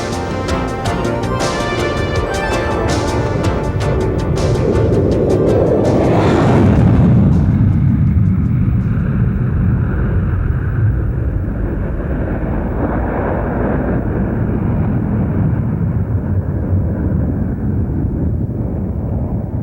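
Lockheed SR-71 jet aircraft passing in flight, a loud, sustained roar that swells to a peak as it goes by and then fades into a lower, duller rumble as it recedes.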